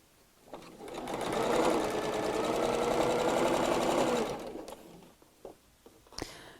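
A domestic sewing machine stitching around a fabric dust cover, a steady whirring hum lasting about four seconds before stopping, followed by a few small handling clicks.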